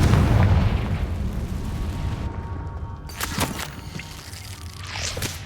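In Hogwarts Legacy a Confringo spell explodes with a loud boom that rumbles and decays, followed by scattered bursts and crackles amid faint game movement, with no talk.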